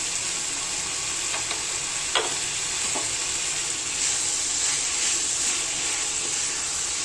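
Tomato chutney cooking in a pan as sugar and dark organic jaggery are stirred in, a steady bright sizzle with a few soft scraping strokes of a spoon, close and continuous.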